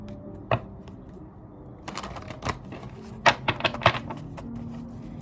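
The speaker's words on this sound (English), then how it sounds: "I'm shuffling the cards." Tarot cards being shuffled by hand, a brisk run of crisp riffling clicks and soft flutters in irregular bursts, with a few sharper snaps, close and fairly quiet with no talking.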